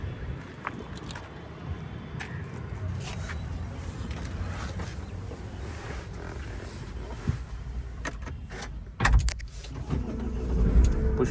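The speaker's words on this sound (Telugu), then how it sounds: "కార్ అయితే స్టార్ట్ చేశాను, చూసుకోవచ్చు." Idling engine of a 2016 Mahindra XUV500 W10 after push-button start, a low steady rumble heard from close by, with a few clicks and a louder knock and thump near the end.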